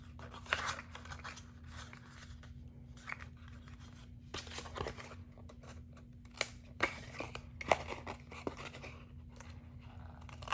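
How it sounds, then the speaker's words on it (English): Scissors snip through paper flaps of a handmade gift bag, cutting mitered corners with a run of soft, close crisp snips and rustles over a steady low hum. "We are going to miter the corners on both of these long flaps."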